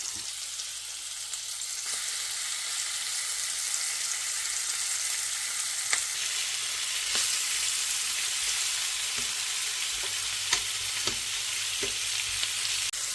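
Steady, dense sizzle of prawns frying in hot oil, continuous throughout with occasional small pops and crackles, close by and fairly loud.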